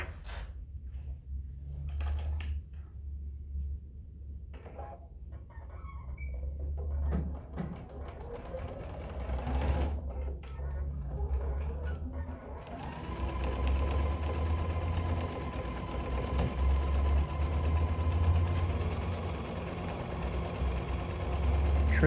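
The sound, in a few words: sewing machine sewing a quarter-inch seam across fabric bottom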